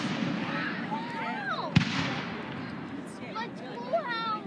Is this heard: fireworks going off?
yes